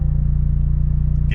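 A 2023 Toyota GR Corolla manual hot hatch sits with its engine running, a loud, close, pulsing low rumble with a brief clatter right at the end.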